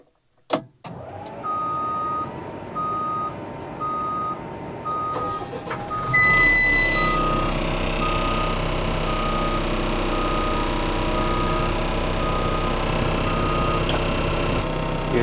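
A Cat D2 dozer started with the key: a steady warning beep tone repeats evenly, then the engine catches and settles into a loud, constant idle rumble with electronic chimes, no talk.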